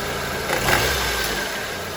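A Honda CR-V engine revs up and settles under the hood while a belt tensioner noise is checked, a steady close mechanical drone with a brief rise in pitch and loudness, no voices.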